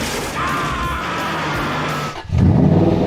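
An Aston Martin V8 Vantage Mansory idles with a steady, close engine drone, then bursts into a much louder, rasping roar as the V8 revs hard and the car pulls away.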